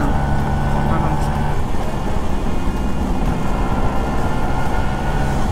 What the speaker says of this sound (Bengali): ভেসপা তিন নাম্বার গিয়ার উঠে দিচ্ছে